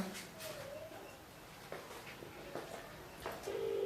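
A telephone ring tone sounds faintly amid background chatter and bird-like chirps, with a sustained electronic tone at the end.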